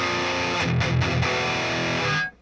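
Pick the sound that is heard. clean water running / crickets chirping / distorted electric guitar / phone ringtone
distorted electric guitar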